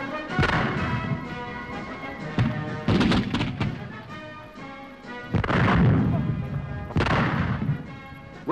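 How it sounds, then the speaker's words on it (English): A brand-new 105mm light artillery gun fires four heavy, booming rounds spaced a couple of seconds apart. Each loud report has a long rumbling tail, and other sound runs faintly beneath it. "On view for the first time, the brand new 105mm light gun."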